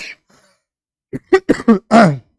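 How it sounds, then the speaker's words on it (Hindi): A throat-clearing cough from a teacher during a physics lesson, a few short rough bursts close to the microphone, preceded by a brief faint noise and otherwise quiet. "खांसी हो गई सर को"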